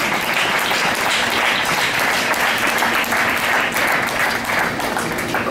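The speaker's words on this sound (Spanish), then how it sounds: "Brindémosle un fuerte aplauso de bienvenida." An audience applauds steadily and fairly loudly at a science conference, welcoming a lecturer onto the stage, with the clapping continuing alone throughout.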